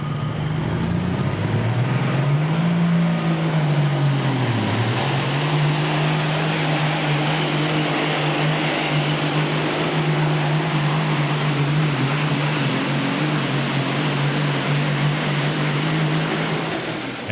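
A hot rod semi truck roars during a truck pull as Dana Lindsay drives Red Hot and Rollin', a loud continuous engine drone that rises and dips early, then holds steady for the whole stretch.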